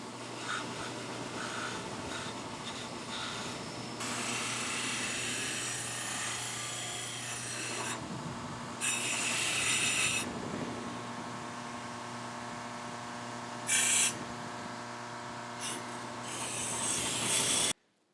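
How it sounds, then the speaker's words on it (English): A brush scrubs gunk from between the teeth of a spiral gear from a Champion "Midway" No. 71 forge blower. The scraping is close and steady, comes in long bursts with a few short pauses, and is heard over a faint background hum. "you want to make sure we get all that gunk cleaned out in there"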